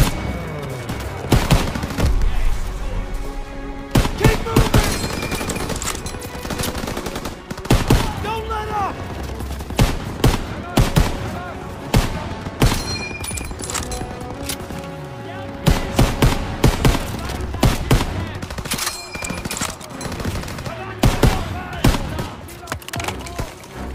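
Bursts of machine-gun fire from MG positions in a barn in the Battle of Normandy video game, with rapid volleys and loud gunshots repeating throughout amid booms and shouted voices.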